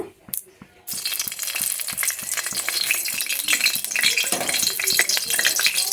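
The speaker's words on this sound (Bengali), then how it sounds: "এখন শুকনো লঙ্কা দিয়ে দেবো ফোড়নের জন্য" Dried red chillies hit hot oil in a wok for tempering and start a loud, steady sizzle after a brief clatter, with a spatula scraping and stirring throughout.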